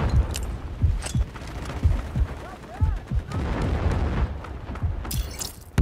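Artillery strikes in Delta Force: Hawk Ops: repeated heavy, low booms about once a second, mixed with crackling gunfire and battle noise at moderate loudness.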